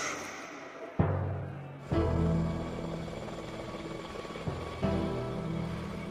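A helicopter in the mountains makes a loud, steady, throbbing drone, broken by sharp cuts and sudden surges as the sound drops out and returns.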